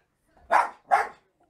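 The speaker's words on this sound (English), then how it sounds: "Ruby, be quiet." A dog indoors gives two quick, fairly loud barks in succession, close by, with quiet surroundings before and after.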